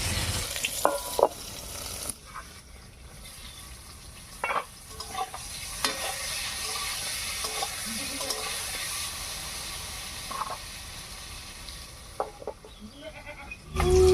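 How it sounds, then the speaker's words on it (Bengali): Steady sizzling of eggplant frying in oil with occasional clinks and scrapes, close and continuous, with a bleating animal briefly in the background. "বেগুনটা ভাজার সময় একটু ঢাকা দেবো"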